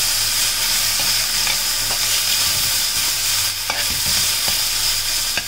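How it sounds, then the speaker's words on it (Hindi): Washed, chopped fenugreek leaves being sautéed in a pan give a steady close sizzle and frying crackle throughout, with occasional soft scrapes of stirring. "हमने अच्छे से wash करके मेथी लीव डाली है। अच्छा, इसको थोड़ी देर अब हम सॉटे करेंगे।"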